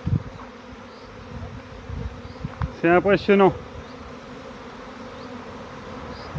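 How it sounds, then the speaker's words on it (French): A swarm of honey bees hums in a constant, close, droning buzz that fills the whole stretch, with someone briefly speaking French over it midway. "Ça fait bizarre, il y a beaucoup d'abeilles."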